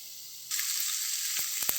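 Bitter gourd (kakarakaya) fry sizzles in a pan, the hiss jumping louder after a brief quieter start and holding steady, with a few sharp clicks or scrapes near the end.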